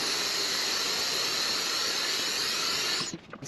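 A Subaru Impreza WRX STI fitted with a cheap Chinese exhaust runs loud and steady with a high-pitched whine, holding constant for about three seconds before cutting off abruptly.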